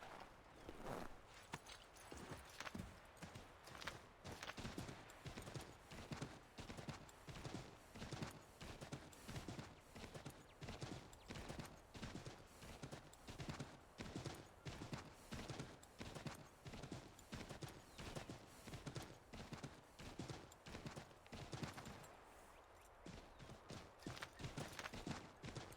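Rapid, steady clip-clop of horse hooves trotting along in a video game, close and even-paced, continuing for a long stretch with a short lull near the end.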